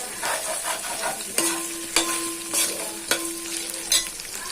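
Country chicken curry with coconut paste frying in a pan, a bright hiss broken by four or five sharp ladle knocks and scrapes at a steady pace, close and fairly loud, with no speech.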